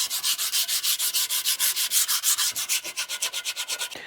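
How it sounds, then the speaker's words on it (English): Sandpaper rubs lightly over a shovel's wooden handle in quick, even back-and-forth strokes, a close, steady rhythmic rasp of about five to six strokes per second with no voices. "give your handle a light sanding"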